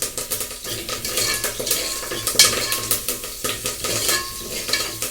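Curry leaves hit a hot pan with a steady broadband sizzle, punctuated by repeated scraping and clinking of a spoon stirring against the metal, close and continuous with no voices.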